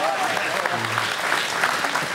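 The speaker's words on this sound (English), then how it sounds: "Nice round of applause here, deserving for these two guys" Crowd applause for two fighters after a bout at an Xtreme Couture fight event in Las Vegas, a steady, dense wash of clapping that fills the whole moment, loud and close, with no one talking over it.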